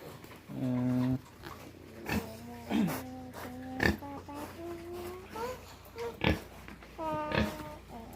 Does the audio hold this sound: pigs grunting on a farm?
yes